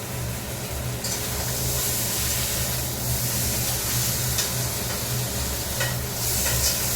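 Crab cooks in a pan at home, giving a steady sizzling hiss over a low rumbling hum, broken by a few brief bright spits and scrapes of stirring, close by and with no talking.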